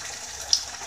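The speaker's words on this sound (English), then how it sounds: "And now I'm gonna be adding 2 cups of water." Two cups of water poured into a cooking pot, a brief close gushing splash from a faucet or cup, with no voices.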